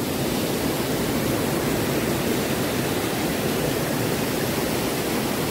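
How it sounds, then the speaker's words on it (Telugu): A waterfall at Gandahati in Gajapati, Odisha, roars as a steady, dense rush of falling water, close and loud, with no voices over it. "చూడండి వాటర్ ఫ్లో శబ్దం చాలా అంటే చాలా ప్లెజెంట్."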